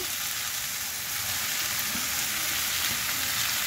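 Fresh fenugreek leaves (methi shak) fry in a pan on a gas stove, a steady, even sizzle and crackle at moderate volume, heard alone without talk.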